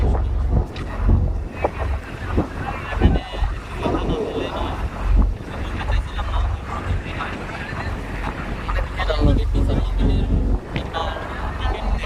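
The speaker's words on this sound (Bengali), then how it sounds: "অনেক উঠাচ্ছে নদীর নৌকাটা।" A river boat's engine drones low and constant while the boat rocks and wind buffets the microphone, and voices talk intermittently over the rumble.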